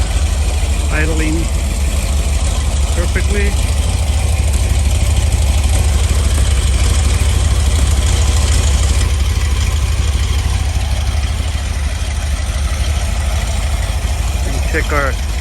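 A carbureted Rover 4.0 V8 runs at a steady, even idle on an engine stand, loud and close throughout, with someone speaking briefly over the engine.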